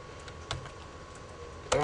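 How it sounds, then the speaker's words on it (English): A computer keyboard is typed on during a Python programming lesson: a few scattered quiet clicks, then a sharper burst of keystrokes at the end, over a low background hum. "I keep typing the wrong parentheses"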